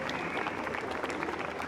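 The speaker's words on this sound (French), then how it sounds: "Vous pouvez l'applaudir, notre cartooniste," An audience applauds a cartoonist at a talk event, with dense, steady clapping from a crowd at close range that holds evenly throughout.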